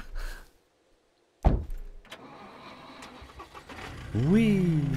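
A car engine starts in the survival video game SCUM: a sharp cranking burst after silence, then a low idle that rises into a revving whine, with a voice briefly audible at the start.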